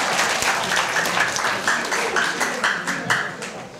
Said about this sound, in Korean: 굉장히 박수 한번 주셔야 됩니다.